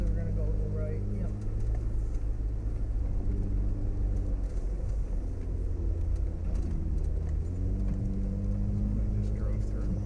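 A Jeep overlanding off-road in the west end of Michigan's Upper Peninsula, its engine giving a steady low rumble with road noise throughout, and voices talking faintly over it.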